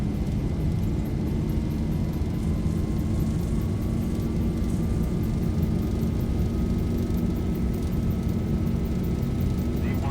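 Boeing 737 jet engines hold takeoff thrust in the X-Plane 11 flight simulator, a loud, steady roar with a rising whine from the engines that never lets up, heard with no speech over it.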